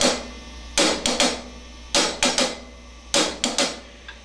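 A drum kit plays a funk pattern: three repeating groups, each an eighth note followed by two sixteenths, with sharp, close, evenly spaced hits over a low steady hum.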